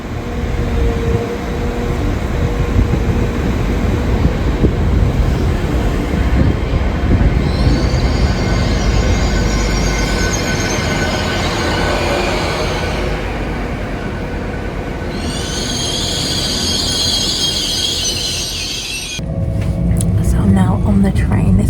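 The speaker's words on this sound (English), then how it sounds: "On the train, this is the express train" An express train rumbles past at speed with a loud continuous roar, rising metallic squeals and a sudden clattering burst near the end.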